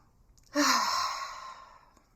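One final deep breath at the end of a tapping session, a single long, close, breathy exhale that starts abruptly and fades slowly over more than a second, with nothing else around it.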